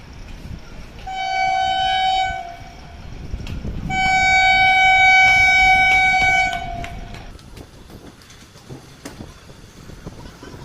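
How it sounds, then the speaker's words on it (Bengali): A train arriving at a station sounds two long, loud horn blasts, the second one longer, over the rumble of the approaching cars, which carries on after the horn stops. "আমার ট্রেন আসার দৃশ্যটা দেখতে খুব ভালো লাগে"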